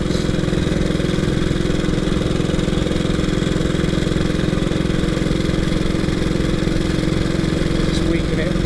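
A 1926 HRD Model 80 motorcycle engine of about 20 horsepower chugs uphill in third gear, with ignition retarded and mixture enriched, giving a steady, close, low throbbing drone throughout.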